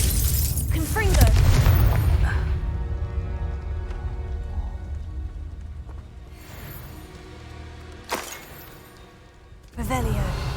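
A fire-spell explosion in the Hogwarts Legacy video game bursts loudly with a crackling boom, followed by a long fading rumble with scattered debris, then two sharper bangs near the end; a voice shouts at the start.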